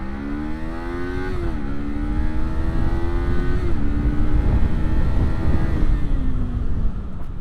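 A Kawasaki Z500 motorcycle under hard ABS braking, its engine note steadily stepping down through the gears with a loud, continuous drone and road and wind rush throughout.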